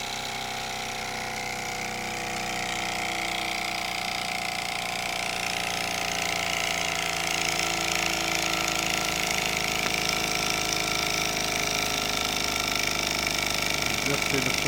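A Mamod SP6 model steam engine running on a low flame, a continuous steady mechanical whir and hiss that grows slightly louder over time, close and without a break.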